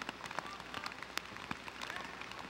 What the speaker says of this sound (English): The rain is really starting to pick up